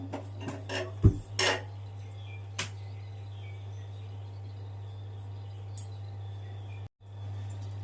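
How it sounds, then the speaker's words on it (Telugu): A metal pot is set down on a gas stove as it is lit, giving a few sharp clinks and clatters at the start, then a steady low burner hum in a quiet kitchen with faint insects chirping. "ముందుగా గిన్నె పెట్టేసుకొని స్టవ్ వెలిగించేసుకుందాం అండి"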